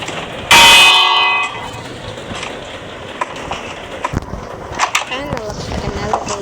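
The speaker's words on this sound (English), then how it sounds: "when you reach the top, ring the bell instantly" A bell struck once at the top of a wooden bell tower in Minecraft, ringing loud and bright before decaying over about a second, followed by quieter game ambience and faint clicks.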